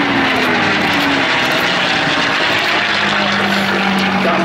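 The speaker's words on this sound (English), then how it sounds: "Here comes the Mustang." A P-51D Mustang fighter flying past near Lisbon Castle and the harbour on Jersey, a loud continuous piston-engine roar with a gliding tonal drone that shifts pitch as it passes, close and overwhelming.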